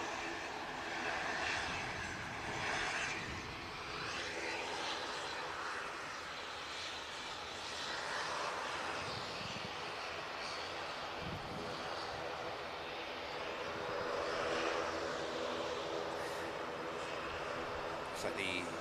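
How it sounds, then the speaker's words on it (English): An airliner departs Manchester Airport with a steady, distant jet roar that swells and fades gently throughout. "we've got another beautiful aircraft on the way out"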